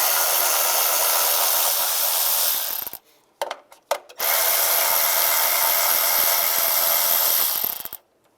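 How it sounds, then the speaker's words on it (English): Power tool with a 10mm socket spinning out bolts from the cylinder deactivation manifold plate on a 2007-2013 Chevrolet Silverado 1500, two long loud steady whirring runs broken by a pause with a few knocks, no talking. "Now we're going to take this plate off, use a 10mm socket, take these two bolts out first."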